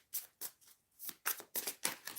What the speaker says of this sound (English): why am I shuffling these?